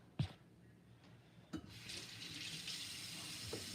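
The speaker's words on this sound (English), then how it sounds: "I'm gonna wash my hands real quick" A kitchen tap runs while hands are washed, a steady close hiss of water into a sink after a couple of bumps, with small splashes near the end.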